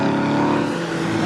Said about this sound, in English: So through goes Clark in 7th, and then side by side for 8th, and Jazz Sapra goes through.